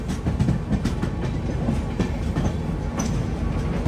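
The Dharmavaram–Machilipatnam Express rolls past near Vijayawada Junction, a dense, loud rumble of wheels and carriages with rhythmic clatter, heard close up from a moving train.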